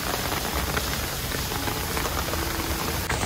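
Steady rain falls hard and close, a dense, even hiss of drops on surfaces that runs unbroken throughout.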